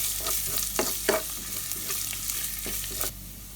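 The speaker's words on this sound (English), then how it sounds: "Then the pandan leaves, curry leaves, and the garlic. Give it a mix. Let's fry this for 30 seconds." Pandan leaves, curry leaves and garlic frying in hot oil, a steady close sizzle punctuated by several sharp spatula scrapes and stirs against the pan.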